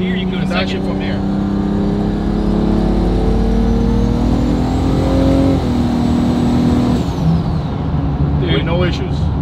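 A 1200-horsepower 1.5JZ-swapped widebody FRS on 50 psi of boost downshifts through its paddle shifter, the engine droning and rising in pitch before dropping away, with people talking over it close by.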